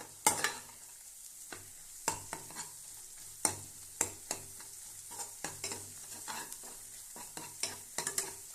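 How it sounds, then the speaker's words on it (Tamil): Egg and string-hopper noodles sauté in a pan under a soft sizzle, punctuated by sharp, regular clacks of a spatula stirring and scraping every half second or so, with no talk. "அப்படியே நல்லா வதக்கி விட்டுக்கோங்க ஃப்ரெண்ட்ஸ் நல்லா கொஞ்சம் நேரம் வதங்கட்டும்"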